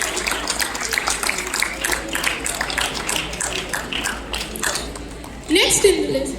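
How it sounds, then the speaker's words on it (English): Applause at a school annual games and sports prize distribution ceremony for prize winner Riddhi Pawar, scattered clapping in a hall that thins out, with a louder burst of noise and voices near the end. "Give her a huge round of applause."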